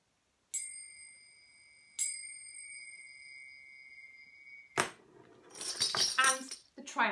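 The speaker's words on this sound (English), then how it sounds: "little cymbals," Little cymbals struck twice, each bright metallic ring sustaining and slowly decaying, followed by a loud burst of jangling, clattering metallic percussion near the end.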